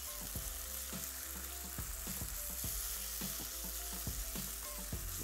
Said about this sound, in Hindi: फ्राई करनी है चिकन।